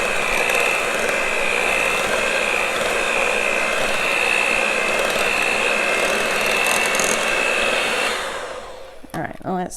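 An electric mixer runs steadily while blending softened, room-temperature cream cheese for a Butterfinger pie, a loud continuous whine for about eight seconds before it shuts off and a few clicks follow.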